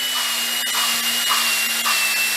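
A drill runs continuously, spinning a valve in a Volvo 2.5T cylinder head: an even, close whirring hiss with a steady low hum, and faint rhythmic rubbing pulses every half second or so.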